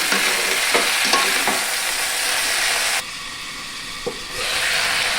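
Vegetables for Bengali shukto sautéed in a pan with a steady sizzle and the scrape of a spoon stirring through them; near and fairly loud, briefly dipping quieter midway before the frying hiss returns.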